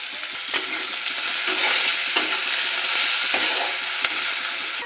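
Onion frying in hot oil for a boal fish curry, a steady close sizzle broken by repeated spatula scrapes and stirring knocks against the pan, with no talking.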